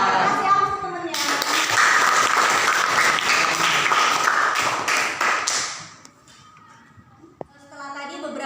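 Students in a classroom applaud a classmate, a dense burst of clapping for about five seconds that stops abruptly, followed by quieter room sound and a teacher's voice before and after.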